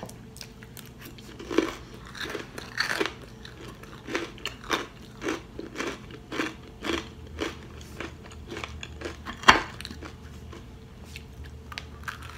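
Close, crisp bites and steady chewing of a strawberry waffle soaked in whipped cream, with soft crunches and wet mastication repeating in a regular rhythm, quiet and intimate with no talking.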